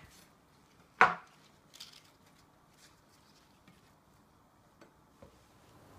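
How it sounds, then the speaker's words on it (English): Garlic mustard leaf stems chopped off on a cutting board: one crisp, close knife chop followed by a few faint, scattered taps in a quiet room. "You need to chop off the stems and put them into piles."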